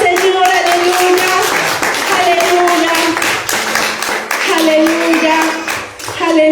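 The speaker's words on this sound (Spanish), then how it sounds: "Denle ese fuerte aplauso al Señor." A church congregation claps and applauds together, loud and continuous throughout, with sustained singing or vocal tones carrying over the clapping.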